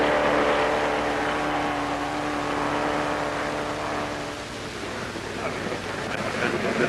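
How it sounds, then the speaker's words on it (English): A Triumph TR2 sports car engine, now firing on all four cylinders, accelerates away on a timed speed run, a steady roaring drone with faint rushing noise, heard under period narration. "the car's away again, this time with the engine really chiming on all"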